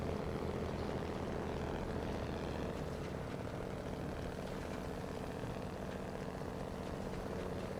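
In the video game SnowRunner, a slow Azov 64131 truck fitted with a new engine drones steadily and continuously. The low, rumbling hum stays at an even level with no voices over it.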